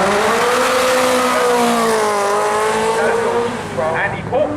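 A twin-turbo Ferrari F40 with about 500 brake horsepower accelerates hard at the Brighton Speed Trials, its loud engine note climbing and sweeping through gears close by, with a brief tyre-squeal-like burst near the end.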